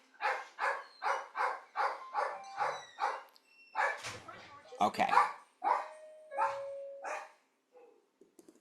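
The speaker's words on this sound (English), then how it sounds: "as soon as the dog stops barking" A dog barks repeatedly in a steady run of sharp, loud barks, then a few more irregular barks and yelps follow, with a brief spoken word near the end.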